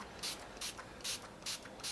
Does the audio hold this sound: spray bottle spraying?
yes